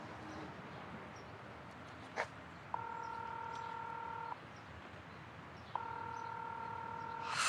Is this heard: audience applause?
no